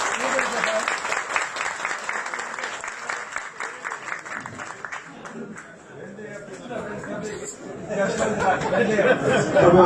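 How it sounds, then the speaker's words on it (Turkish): A crowd at a ceremony where a kickboxing champion receives a gold belt applauds loudly, with dense clapping that eases in the middle and swells again, mixed with chatter and voices. "Evet, alkışlarınızla değerli konuklar."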